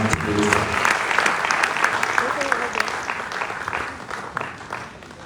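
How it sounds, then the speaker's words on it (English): Sustained crowd applause at a Liberian small-business enterprise conference, steady dense clapping throughout, with a voice briefly audible at the start. "Once again, a very big round of applause for the activities."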